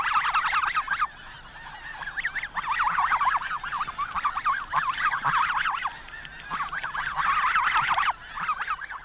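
Wild snow geese call to one another insistently, a dense chorus of overlapping honks that rises and falls in waves without pause, close and loud with no voices among them.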